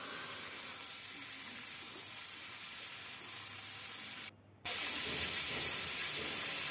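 Bottle gourd pieces tipped into hot oil already holding cumin and green chilies give a steady, close sizzle and hiss. The sound breaks off briefly near the end, then comes back louder.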